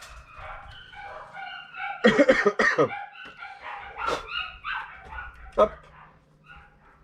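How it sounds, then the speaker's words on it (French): Several dogs bark and yelp at a woman arriving, in loud bursts around the middle with a sharp yip near the end, while someone talks over them in a garage during a car unwrapping. "Ah, les chiens vont gueuler, madame arrive."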